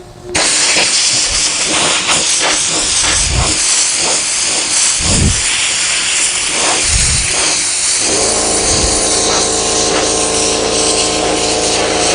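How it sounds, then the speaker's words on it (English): Loud, constant hiss of an air compressor running nearby, with a few low thumps and a shift to a steady mechanical drone toward the end. "It's going to get noisy when this compressor kicks in"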